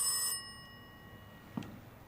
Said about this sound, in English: I hear it, but oh, I know where it is.